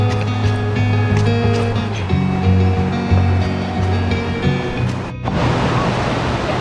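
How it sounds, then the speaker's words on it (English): A sizable river rushes steadily during an ultra-distance race on the Cape Wrath trail, its broad roar loud and continuous, with a brief dip before the flow surges back in. "First round, a sizable river."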